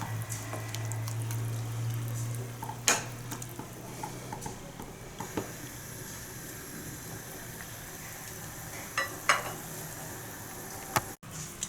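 A pot of water boils with drumstick tree leaves for murungai keerai soup, a continuous bubbling simmer with a few sharp clinks and stirring knocks, close and moderately loud, with no voices.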